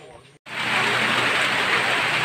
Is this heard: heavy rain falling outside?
yes